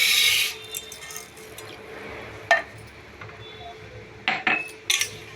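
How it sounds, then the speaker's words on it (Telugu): Rice is washed by hand in water in a metal vessel, giving soft wet swishing broken by a few sharp metallic clinks and knocks against the pot, close and alone. "ఇప్పుడు బియ్యము కడిగి పెట్టుకోవాలి."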